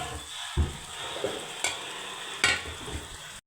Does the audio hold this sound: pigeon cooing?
no